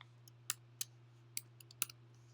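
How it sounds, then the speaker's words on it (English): Sharp computer mouse clicks while using a Silhouette Cameo 3 cutting machine's design software: about five crisp, close clicks at irregular intervals over a steady low electrical hum, with no talking. "First, you click the A to start typing on the screen."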